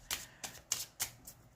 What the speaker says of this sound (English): I'm shuffling my cards really hard.